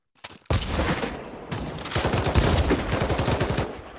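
Rapid automatic gunfire from the video game Pavlov rattles in dense, loud bursts after a few opening shots, continuing almost unbroken to the end.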